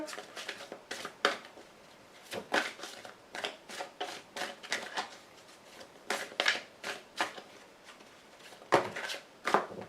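Tarot cards are shuffled and drawn in quick bursts of close, crisp riffling and slaps, each flurry separated by short pauses and repeated throughout.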